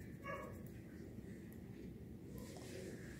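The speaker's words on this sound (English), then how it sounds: "You hear them dogs in the background?" Several dogs bark faintly and far off in the background, with a couple of brief yips early on over a steady low room hum.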